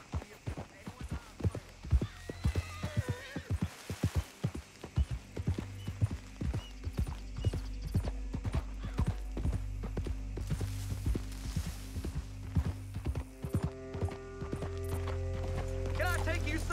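Horses' hooves clip-clop steadily as they pull a wagon in the Western video game Red Dead Redemption 2, with a horse whinnying, game music rising, and voices talking over the rhythmic plodding.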